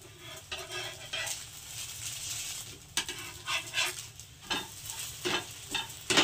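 Garlic paratha fries in ghee or butter in a pan with a steady close sizzle, broken by scraping stirs and flips.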